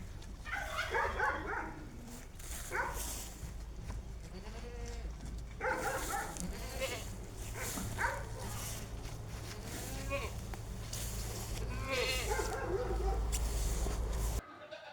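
Nubian goats from a dairy line, including a first-time milker, bleat several times at close range over a steady low farm hum, with a dog-like call mixed among the cries.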